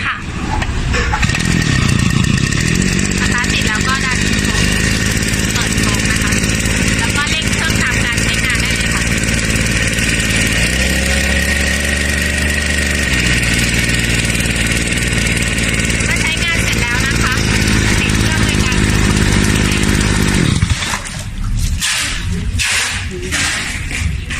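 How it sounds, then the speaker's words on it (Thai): A portable two-stroke Vigotech VG-WP52 water pump engine, 1.5-inch and 3 hp, is pull-started and runs with a loud, steady buzzing drone for about twenty seconds. The revs shift slightly as it runs, then it cuts to quieter sputters. "แล้วก็ดึงคันเร่งก็ให้อยู่ประมาณ ประมาณนี้ได้เลยนะคะ ตามคลิปดึงสตาร์ท"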